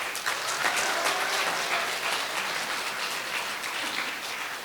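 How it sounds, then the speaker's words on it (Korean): Large audience at a Korean Buddhist Jogye Order 30th-anniversary dharma ceremony applauds a monk, a sustained dense roar of clapping that stays loud and even for the whole stretch. "이 시대 최고의 불교 지도자 대봉 스님께 여러분 큰 박수를 한번 보내주시기 바랍니다"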